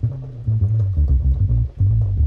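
Kontakt Scarbee Rickenbacker bass playing its Dub Bass preset, a deep, round, sustained bass line of several notes with brief gaps, loud and alone.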